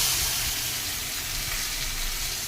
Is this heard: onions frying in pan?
yes